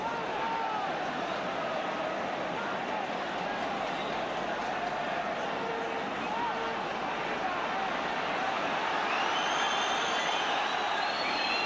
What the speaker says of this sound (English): Crowd getting a little bit impatient